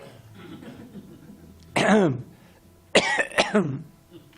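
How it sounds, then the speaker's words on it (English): Two close, harsh coughing bursts, the second a rapid double cough, after a stretch of quiet low murmur. "now suddenly the cough is coming"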